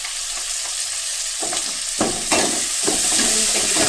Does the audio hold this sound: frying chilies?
yes